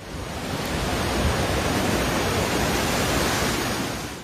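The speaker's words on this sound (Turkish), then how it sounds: "Başkent Wellington'da dalgalar sahil yollarını kapladı" Storm-driven waves surge and crash over coastal roads in Wellington, New Zealand, a steady, loud, broadband roar of surf and spray that holds without pause throughout.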